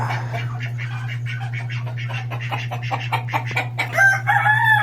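Backyard chickens and ducks cluck and chatter nearby over a steady low hum, with a rooster-like call rising near the end.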